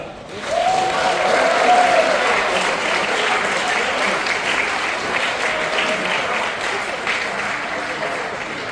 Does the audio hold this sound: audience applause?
yes